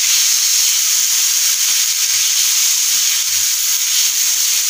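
Chopped tomatoes sauté in hot oil for chana masala, giving a loud, steady, close sizzling hiss that runs unbroken throughout.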